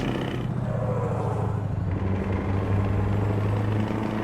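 A Scania V8 truck in Euro Truck Simulator 2 idles with a deep, steady, rumbling exhaust throb that stays loud and even throughout, with no talk over it.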